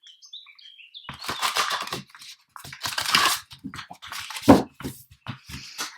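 Tarot card deck shuffled by hand, several close, crisp riffles and fluttering card bursts with a sharp tap in the middle, loud and near, alone without talk.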